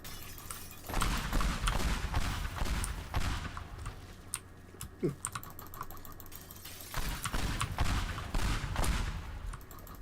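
Explosions and collapsing debris in the Teardown destruction game, loud rumbling bursts with sharp crackling clatter in two heavy clusters separated by a quieter stretch of scattered ticks and impacts.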